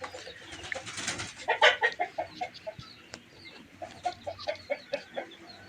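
Chickens cluck and murmur close by, a run of short rhythmic clucks following some louder squawking calls.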